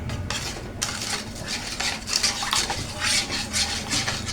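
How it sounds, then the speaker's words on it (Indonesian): A spoon steadily scrapes and stirs batter for a milk-custard gabin cake, mixed with egg, salt and margarine, in a bowl. The scraping is continuous and close, with rhythmic clinks and no talking. "Kita aduk lagi."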